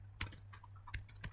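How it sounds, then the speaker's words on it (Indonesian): A brief, quiet burst of keystrokes on a computer keyboard, several close clicks typing a ping command into a terminal, with a low steady hum underneath. "lalu di terminal VPC 2 kita ketikkan ping"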